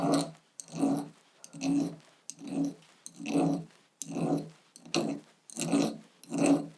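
A hand file rasps over wax where a sprue was trimmed, in eight even back-and-forth strokes, each a close, gritty scrape with short pauses between.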